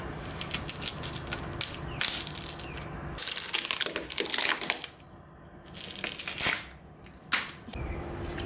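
Old veneer is torn off a mid-century modern dresser in bursts of loud cracking, rasping and crunching, with short pauses between the rips.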